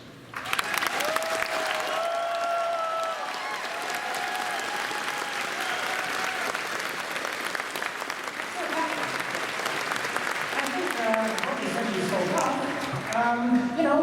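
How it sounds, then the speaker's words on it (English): An audience at the Anthrocon 2025 furry convention closing ceremony applauds in a sustained, dense wave of clapping that fills the hall, with voices and amplified sound rising over it toward the end. "one more round of applause for the people who make Anthrocon happen, the board of directors"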